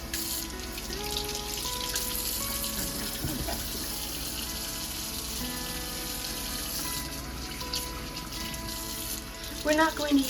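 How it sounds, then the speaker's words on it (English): Tap water runs steadily into a sink while celery for a potato salad is rinsed, a continuous close splashing stream with a brief burst of louder clattering near the end. "We're just rinsing all of"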